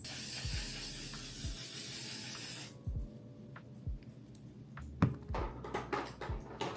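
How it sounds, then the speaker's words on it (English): A steady, close hiss of an aerosol face setting spray lasts a few seconds, then stops, followed by soft taps and small handling sounds. "I've been loving this L'Oreal Infallible setting spray"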